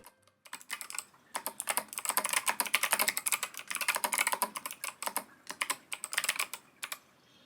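Rapid, continuous typing on a DIY mechanical keyboard fitted with blank keycaps, crisp close clacks in quick bursts with a brief pause near the end.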